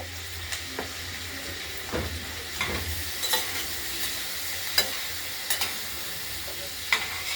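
Flat beans seasoned with salt and turmeric are stirred in oil in a kadai, a soft steady sizzle under scattered scraping clicks of the spoon against the pan, fairly quiet and without speech.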